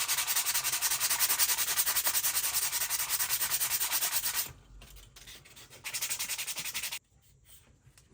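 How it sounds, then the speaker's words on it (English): Fine grit sandpaper rubbing along the edge of a costume shoulder strap for a screen-accurate Stormtrooper build: steady, close scratchy strokes in a continuous run, then a short pause and a few more bursts of sanding before falling quiet. "I'm going to come in with my fine grit, and I'm just going to do a finishing sand around the edge to make it smooth."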